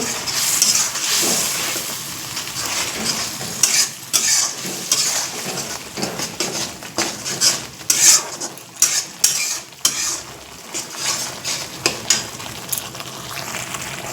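Spices with salt and turmeric for an egg and potato curry stirred in a pan, a ladle scraping and clinking against the metal in repeated strokes over a low sizzle, close and without talk.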